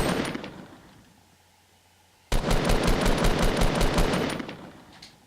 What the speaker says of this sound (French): je vais buter à la mitraillette au pire